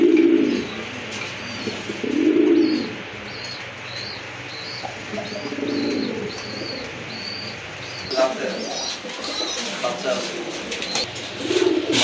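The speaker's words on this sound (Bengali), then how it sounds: "খুবই অ্যাক্টিভ আর ফ্রেশ কবুতর" Pet pigeons at a wholesale pigeon dealer coo in repeated low, throaty rolls, with fainter chirps and bird calls around them in a busy enclosure.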